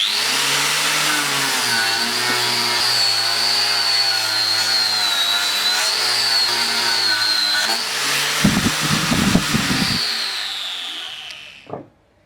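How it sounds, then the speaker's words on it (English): A Josco Black Strip-It disc on a power tool grinds paint off timber, a loud continuous high whine with steady engine-like droning that briefly roughens and clatters near the end before spinning down and stopping. "Firstly, I'll demonstrate the removal of paint on timber."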